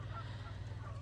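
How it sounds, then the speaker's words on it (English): Geese honk faintly in the distance outdoors on a snowy morning, their calls thin and scattered over a low, steady background hum. "Hear the geese?"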